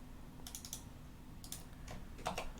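Keys on a computer keyboard clatter in short, quiet bursts of a few presses each, spaced across a couple of seconds over a steady low background hum.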